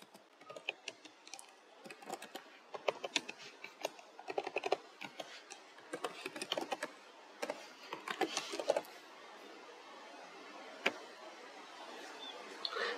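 An email address is typed on a computer keyboard in quick irregular bursts of soft clicking keys, close and quiet, thinning to a few isolated taps near the end.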